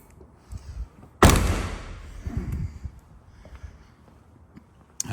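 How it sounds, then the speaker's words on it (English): A single heavy thud as the manual boot of a 2022 Mercedes GLB 200 is pushed shut, followed by a brief rattling decay and quiet background shuffling. "And then we'll put the boot down."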